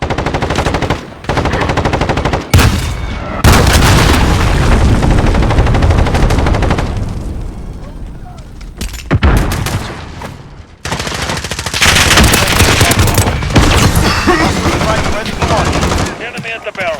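Call of Duty gunfire rattles in loud, rapid bursts separated by short pauses, with game effects filling the gaps.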